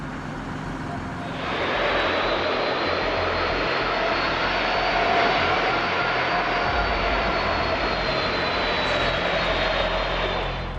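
An airplane's engines roar during a hard landing on a short runway, rising after a moment into a loud, sustained, broadband rumble and rush that holds steady to the end.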